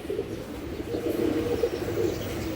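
A Giribaz pigeon, a fighter-type breed, coos in low, soft rolling pulses, close by and fairly loud, with a few faint chirps around it and no talk.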